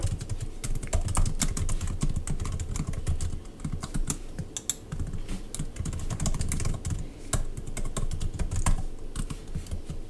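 Steady typing on a laptop keyboard while entering a Homebrew install command, with dense, close, rapid key clicks running continuously, varying slightly in pace, no talking.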